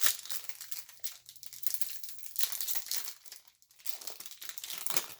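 A foil Yu-Gi-Oh card pack wrapper is torn open and crinkled close up, a continuous loud crackling with short tearing bursts and no voices.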